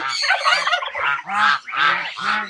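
Domestic ducks at a nesting area give a rapid series of loud, close honking calls in several bursts, with no talk over them.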